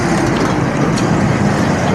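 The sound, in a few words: vehicle engine running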